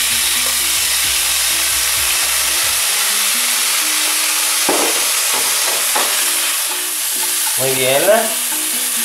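Langostinos with green peppercorns and brine frying over very high heat in a pan, a steady loud sizzle with stirring scrapes, while a voice speaks briefly over it.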